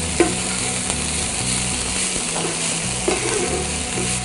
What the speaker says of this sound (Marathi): मेथी छान परतून घेऊया।